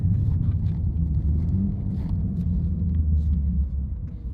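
A BMW M4 G82 xDrive engine rumbles low and steady from inside the cabin, a continuous drone with slight swells and no clear shift event.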